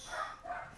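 Dogs bark during a podcast recording, two short muffled barks that sound a little distant, with no talk over them.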